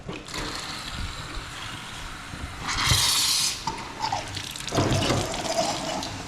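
Water runs from a sink tap turned on for the first time in a season, with a steady hiss, surging louder for a moment midway, with clinks and small knocks around it.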